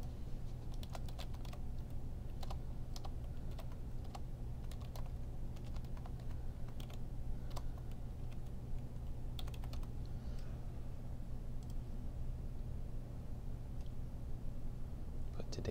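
Someone types text on a computer keyboard, producing irregular bursts of close, crisp key clicks over a steady low background hum, with no talking.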